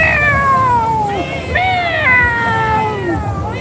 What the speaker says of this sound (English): Turkish meow